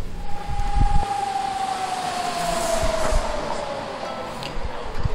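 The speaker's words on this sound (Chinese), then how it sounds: "有听到嗡嗡嗡的警报声吗？没错，是万安演习的声音" A distant civil defense air raid siren from the Wan An drill at the Wufeng Lin family mansion in Taichung, a long steady wail that slowly falls in pitch under outdoor bustle.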